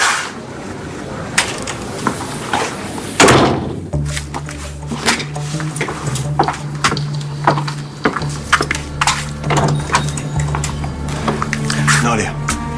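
Indoors on a TV soap opera set, a door shuts with one solid wooden thunk partway through, amid footsteps, shuffling, a low hum and people talking.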